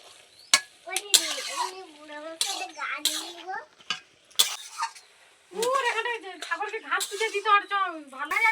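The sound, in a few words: stirring bottle gourd curry as fried prawns are added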